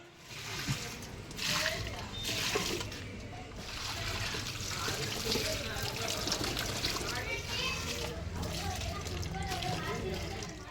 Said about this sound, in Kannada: ಗಿಡಕ್ಕೆ ಮಾತ್ರ ಒಂದು ಸ್ವಲ್ಪ ನೀರು ಹಾಕಬೇಕು